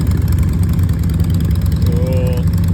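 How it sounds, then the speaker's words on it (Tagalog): A Harley-Davidson Dyna Super Glide motorcycle with a 1400cc engine idles nearby in a low, throbbing rumble. The engine noise stays loud and steady throughout. "Dyna Super Glide Harley Davidson 1400cc"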